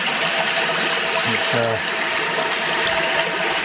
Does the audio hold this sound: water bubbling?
yes